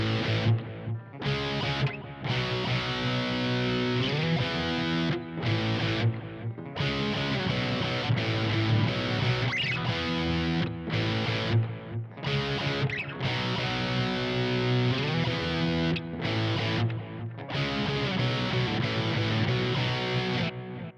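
Distorted electric guitar power chords of a song strummed steadily and slowly, shifting between a few chord shapes with brief gaps, loud and close, no voices.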